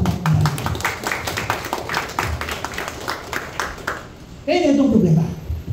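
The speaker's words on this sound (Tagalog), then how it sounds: "Isa pong palakpak na rin." A church congregation gives a burst of rhythmic hand clapping during a sermon. The sharp claps come close and fairly loud for about four seconds, then fade as a voice speaks.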